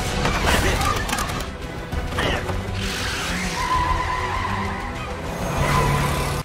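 Anime car in a horror escape scene speeds off with tire skids and engine noise, a busy, loud mix of squeals and rumble with brief crash-like hits throughout.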